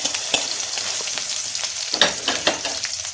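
Shallots, garlic, chili and ginger sizzle steadily in hot oil over low flame, with a few sharp scraping stirs cutting through the continuous frying hiss; no voices.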